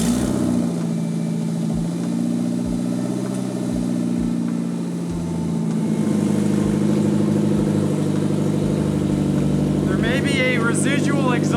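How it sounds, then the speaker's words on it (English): A Toyota MR2 track-build engine idles with a residual exhaust leak, giving a steady, loud low rumble with rhythmic puffing pulses throughout, and a voice speaks briefly near the end. "Residual exhaust leak."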